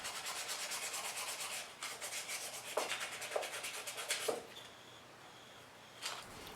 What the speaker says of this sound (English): finish it by hand with 400 grit and then 600 grit sandpaper